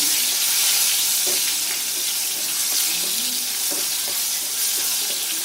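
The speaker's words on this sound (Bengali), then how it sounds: "এবারে এই তেলের মধ্যেই আমি একটু টমেটো খুব সামান্য জাস্ট কয়েক সেকেন্ড একটু নাড়াচাড়া করে তুলে নেব।" Tomato pieces sizzle and get stirred briefly in hot oil left over from frying potatoes, a steady close crackle with a few soft stirring scrapes and no talking.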